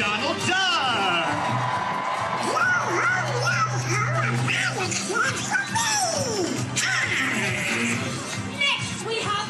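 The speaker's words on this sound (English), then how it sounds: "Please give a big Buccaneer cheer for Pirate Donald Duck!" An audience aboard a Disney cruise ship whoops and cheers for a costumed Pirate Donald Duck at a deck party, with excited children's shouts and yells rising over loud music and an amplified host voice throughout.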